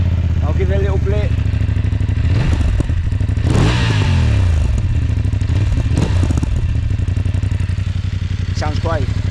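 A 2024 BMW F 900 GS motorcycle idles close up, then its throttle is blipped several times, each rev rising sharply and falling back, while someone talks over the engine.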